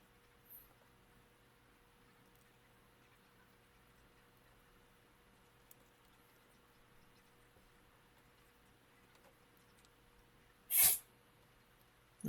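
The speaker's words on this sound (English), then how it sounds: "That was my cat sneezing." A cat gives one short, sharp sneeze in an otherwise quiet room, with a faint snuffle just before it ends.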